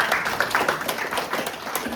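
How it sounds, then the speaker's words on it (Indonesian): Scattered clapping from a congregation at a church retreat session, a thin patter of hands without much crowd roar, moderately close and fairly quiet. "Tepuk tangan buat Tuhan Yesus Kristus."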